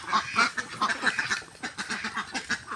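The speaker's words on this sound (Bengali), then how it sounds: "হাজার হাজার হাঁস দেখেন" A huge flock of domestic ducks on the water in Bagerhat quacks continuously, many overlapping calls forming a loud, dense, nearby chorus with no speech over it.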